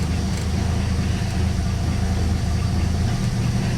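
A 1957 Plymouth Plaza barn find, parked for over twenty years, idles steadily up close with a dense low engine rumble that holds even and unbroken throughout, no voices over it.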